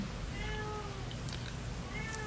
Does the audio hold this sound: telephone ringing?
no